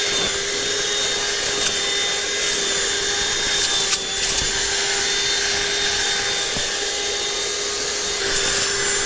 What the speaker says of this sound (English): I didn't even want my hoover touching this stuff. Oh, it's a G-Tech.